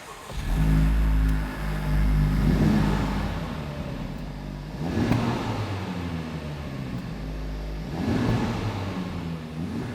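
A new Honda Civic Type R with a triple, centrally mounted exhaust revs while stationary, held under 4,000 RPM by a soft limiter; a steady loud engine drone swells in three repeated rev rises and falls.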